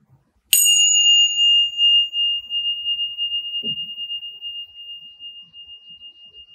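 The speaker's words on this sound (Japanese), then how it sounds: "まずははじめに龍神様とつながり場を清めるティンシャの音から始めていきましょう。" A single strike of tingsha cymbals used to purify a space rings out with a bright metallic ding that sustains and slowly shimmers away over several seconds. A brief faint knock follows midway through.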